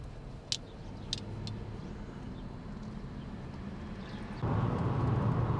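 A car driving along a road through mountain scenery in Montana, with a low, steady interior rumble and a couple of faint clicks, the road noise growing louder toward the end.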